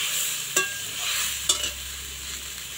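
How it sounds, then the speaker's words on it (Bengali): Onion and cumin paste fries in a pan with a soft sizzle, while a spoon makes two distinct scraping stirs through it, close and fairly quiet. "দিয়ে খুব ভালো করে এটা মিশিয়ে নেব। আর যত ভালো মেশানো হবে, যত ভালো ভাজা হবে"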